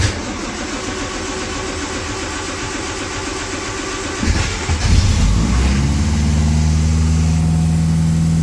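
A cold Triumph TR3 with the choke pulled out cranks and catches, its engine settling into a fast, steady, loud idle that hums on without a break.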